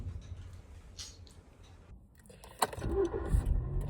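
Inside a car cabin: a quiet stretch with soft rustling, then a sharp door-like thunk followed by louder shuffling, handling noises and low cabin rumble close to the mic.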